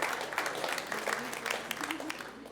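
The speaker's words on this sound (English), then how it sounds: "So let's give Rudy a big round of applause and thank you." An audience at a State of the City 2025 civic event claps in a big round of applause, a moderate, steady patter with talk mixed in.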